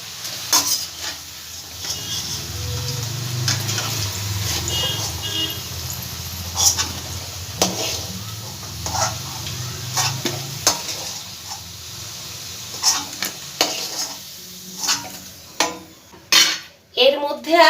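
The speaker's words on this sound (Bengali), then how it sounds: "আলুগুলো আবার আমি তুলে নেব।" Fried potatoes are lifted out of hot oil in a pan with a metal utensil while cooking aloo potol curry, bringing soft sizzling under repeated scraping and clinking scoops that grow sharper toward the end.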